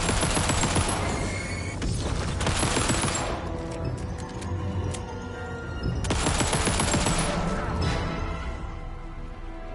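Auto pistol firing in Alan Wake 2, loud dense bursts of rapid gunfire in two main volleys with scattered shots and impacts between, close and without talk.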